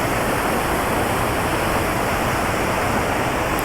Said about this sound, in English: these are the other falls, folks